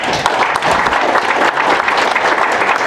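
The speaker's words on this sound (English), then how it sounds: "Please give them a round of applause." Dense, continuous applause from a concert audience at a choral arts event, loud and even across the whole stretch, with no talking over it.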